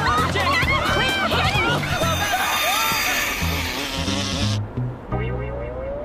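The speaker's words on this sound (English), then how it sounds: "It's back! The bee's back!" A bee buzzes loudly and continuously in an animated cartoon scene, its whine sweeping up and down in pitch over a busy soundtrack before cutting off sharply near the end.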